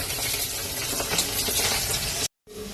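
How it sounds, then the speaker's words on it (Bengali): Fish sizzling and spitting as it fries in a pan in a home kitchen, a steady close crackle that cuts out briefly near the end and then resumes. "মাছ ভাজা হচ্ছে"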